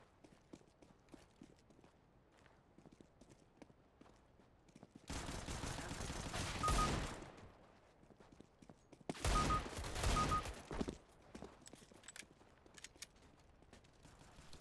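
Desert Eagle fire in a CS:GO match: two dense, loud bursts of gunfire about four seconds apart, set against quieter in-game footsteps and ambient noise, with no talking.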